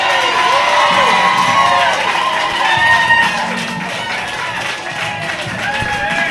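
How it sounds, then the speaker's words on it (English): Large outdoor crowd at the Trump presidential inauguration erupts in loud cheering, shouts and whistles with scattered clapping, a sustained roar that dips slightly and carries on. "The crowd here is exploding in enthusiasm."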